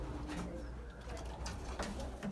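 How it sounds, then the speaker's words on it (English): Racing pigeon cooing softly after arriving home at the loft on race day, low repeated coos over steady outdoor background noise, fairly faint with no talking. "And that was my first pigeon home on race day."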